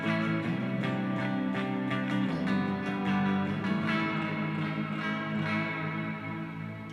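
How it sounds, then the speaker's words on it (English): An electric guitar plays chords and notes through distortion and reverb effect pedals in a shoegaze style, sustained tones ringing and blending into a dense wash of sound. "adding distortion after a modulated reverb on a certain pedal"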